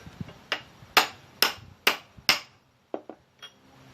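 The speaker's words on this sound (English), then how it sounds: "You can start the pin just with the hammer." A hammer strikes a pin in the front suspension of a 1955 Cadillac Coupe Deville: five sharp, ringing metallic blows at a steady pace, then three lighter, quicker taps, close and clear in a quiet shop.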